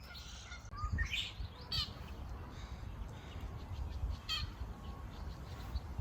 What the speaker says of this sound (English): That's the red-winged blackbird.